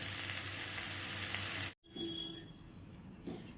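Beans frying with potato, tomato and onion sizzle loudly in a pan for nearly two seconds, then cut out abruptly before a softer, steadier frying hiss returns.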